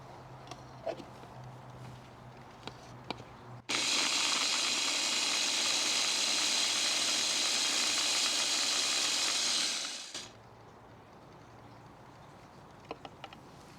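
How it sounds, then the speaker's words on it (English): A blender whirs loudly and steadily for about six seconds, blending burrito ingredients including garlic and citrus, starting abruptly and winding down, framed by quiet kitchen handling before and after. "let's blend everything together"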